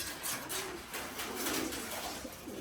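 A Rajshahi Giribaz pigeon calls with soft, low coos in brief repeated phrases, close by and moderately faint over a light noisy background with other pigeons around.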